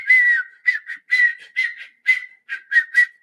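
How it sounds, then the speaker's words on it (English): A person whistles a short, bright melody in clear phrases of separate notes with brief gaps between them, close to the listener and heard alone without any talk. "I whistle."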